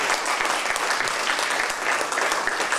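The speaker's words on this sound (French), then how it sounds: "On peut les applaudir." Audience applause follows a talk at a gathering in Bussy, a dense, even wash of many hands clapping at steady loudness throughout.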